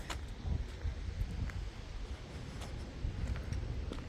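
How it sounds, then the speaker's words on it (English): Strong gusty wind blusters against the microphone outdoors on a cloudy day, a low rumbling buffet that swells and eases with faint rustling above it. "the wind has been just terrible."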